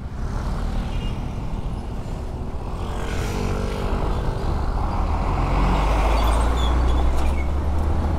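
A truck approaches and passes a rider on an ADV 160 motorcycle on the road, a broad engine and tyre roar swelling louder as it nears, heard alone without talk.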